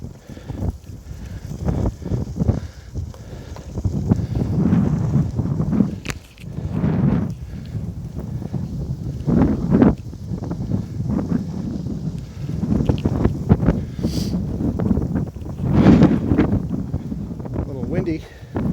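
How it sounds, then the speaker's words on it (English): Gusty wind buffets the microphone in uneven rumbling bursts, with rustling and footsteps on a muddy wetlands trail mixed in throughout. "Windy."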